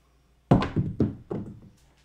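Dice are thrown onto a padded craps table, making a quick run of four or five dull thunks as they land, bounce and settle, close up and with no talk.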